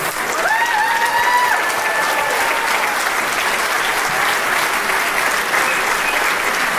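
A large crowd applauds steadily and loudly, with a few cheers and whistles rising over the sustained clapping.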